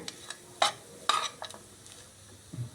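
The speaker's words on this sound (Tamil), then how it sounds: "அடுத்தது தேங்காய் பூ இதையும் சேர்த்து நல்லா கிளறிடுறேன்" Potato podimas with grated coconut is stirred in a pan, spoon strokes scraping and knocking the metal in uneven bursts over a light sizzle, fairly quiet and without any voices.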